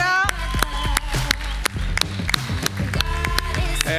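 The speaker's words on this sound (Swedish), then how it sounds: "Stor applåd för Sauri Chiara." Audience applause at a live cooking competition, a steady wash of clapping with sharp individual claps popping through, close and loud throughout.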